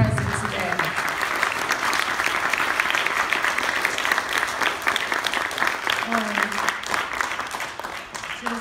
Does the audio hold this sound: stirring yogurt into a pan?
no